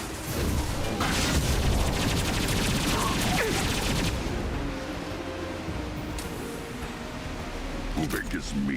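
Mass Effect 2 combat brings dense, loud bursts of rapid gunfire and booms for the first few seconds, easing into a lower rumble with a few sharp shots near the end, with voices over the fighting.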